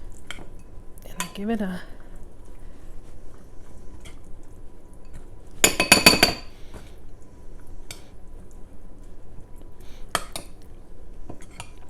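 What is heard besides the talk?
spooning carrot top pesto into a bowl of pasta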